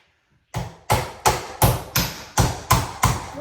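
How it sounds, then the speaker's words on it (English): Drywall with its finishing being broken out of a wall during a home remodel, eight loud, sharp crunching impacts in a steady rhythm, close by, each leaving a brief crumbling tail, with no talking. "Big old chunk of drywall and the finishing in there. And I'm just going to break it out."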